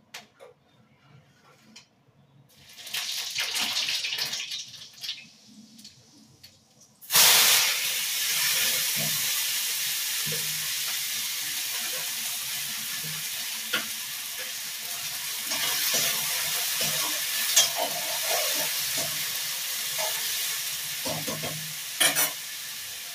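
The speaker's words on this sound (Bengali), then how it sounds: "উচ্ছে কুমড়ো ভাজবো, একটু শুকনো লঙ্কা ফোড়ন দিয়ে দিয়েছি আর দেবো রাঁধুনি" Bitter gourd and pumpkin frying in oil with a dried chilli tempering, a steady close sizzle and hiss that starts quietly and jumps louder after seven seconds, with scattered stirring clicks and scrapes and no talk.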